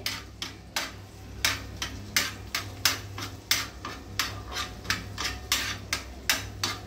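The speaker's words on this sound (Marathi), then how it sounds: "लसूण कापलेलं टाकत आहे आणि ते भाजून घेत आहे" Chopped garlic roasting in a pan is stirred with quick, regular spatula strokes, each a crisp scrape or tap repeating about three times a second over a low background hiss.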